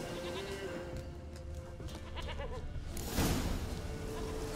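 A goat in The Witcher 3 bleats in a wavering cry partway through, over a steady game ambience, with a brief louder burst near the end.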